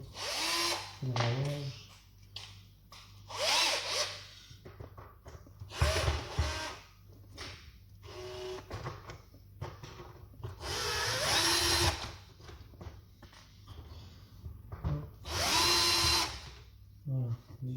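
A power screwdriver backing screws out of a Philips robot vacuum cleaner, several loud whirring bursts of a few seconds each separated by pauses, close up, with someone talking between them.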